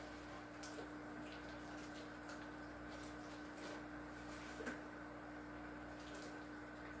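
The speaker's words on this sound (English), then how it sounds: "I'm just going to add a couple of gallons of water right now." A couple of gallons of water pour into a nearly 10-gallon pot of dry potting soil around a Meyer lemon tree, a steady faint wash with no voices.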